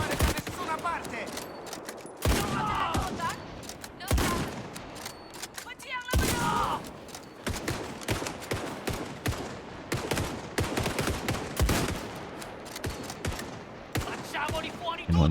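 Rapid bursts of gunfire from the video game Indiana Jones and the Great Circle, loud sharp shots in dense volleys and single cracks filling the stretch, with no talk over them.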